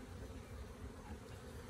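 Honeybees buzz in and around a hive during a first inspection of a newly installed 3 lb package, a faint continuous drone with no pauses and no voices.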